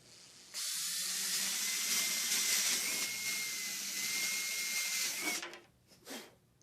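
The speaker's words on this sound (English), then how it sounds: "Next, you take your drill and just lightly drill the holes for your mounts." A high-pitched power drill whines steadily for several seconds drilling pilot holes for snorkel mounts, then winds down with a couple of short bursts at the end.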